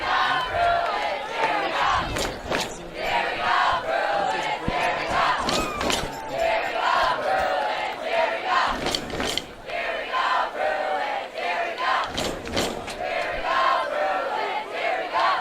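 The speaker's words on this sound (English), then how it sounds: "Home crowd here excited." Home crowd cheering at a varsity high school football game, a loud sustained roar of many voices with swells and shouts, heard close and continuous, with some clattering from the stands.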